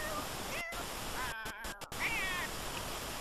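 A cat in The Sims 4 meows several times in short, rising calls against a continuous background hiss like running water, with brief gaps of near-silence between the calls.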